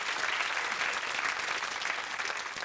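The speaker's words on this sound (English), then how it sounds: "And I think that deserves a round of applause." An audience bursts into steady applause, a dense spread of clapping at moderate distance that holds evenly for a few seconds with no voices on top.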